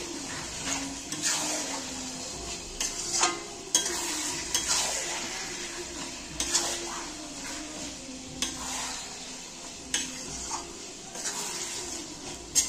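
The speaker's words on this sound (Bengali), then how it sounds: "এবার মাংসগুলো দিয়ে দেব, এবার একটু নেড়ে দেব।" Mutton pieces stirred in a hot pan of cooked-down spice paste, a spoon scraping in irregular strokes over a steady sizzle, close and fairly loud with no talking.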